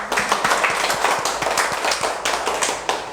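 Audience applause at a Korean lecture, steady dense clapping from a crowd, loud and sustained for a few seconds with some sharper individual claps standing out.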